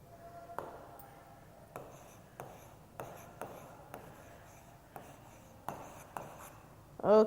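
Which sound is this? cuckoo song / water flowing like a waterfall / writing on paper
writing on paper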